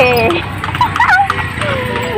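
Horse hooves of a kalesa (horse-drawn carriage) clip-clop in a steady rhythm on a Manila street beneath chatter and background voices, with some tonal whistling sounds drifting over the top.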